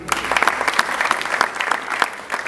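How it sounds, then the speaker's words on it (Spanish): An audience applauds the presentation of the EPM Tigo Une under-23 cycling team, with dense, close, continuous clapping filling the room and no voices over it. "Fuerte aplauso para los 20 integrantes"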